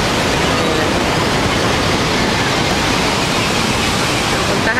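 Niagara Falls roars close by as a dense, constant wash of broadband water noise with no breaks, loud and unchanging throughout.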